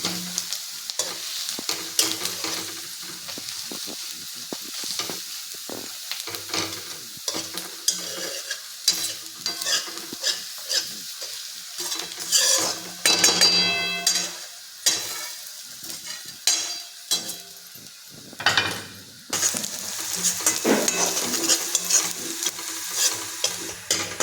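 Chopped onion sautéed in a pan until browned, with a continuous close sizzle broken by frequent scraping and stirring strokes and intermittent louder bursts of spattering oil.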